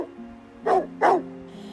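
Two loud, deep barks from a hunter's dog, close and spaced about a third of a second apart, used as an audiobook sound effect over a low steady hum.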